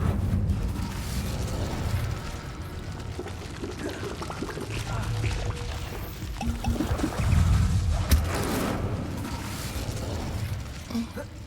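A fire spell, Incendio, is cast in Hogwarts Legacy: a rumbling whoosh of flame with muffled bursts and pops, moderately loud and sustained over a low background bed of game ambience.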